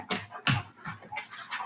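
A dog pants in short, close bursts of breathy huffs with a small whimper, separated by brief pauses, indoors during a yoga session with no voices.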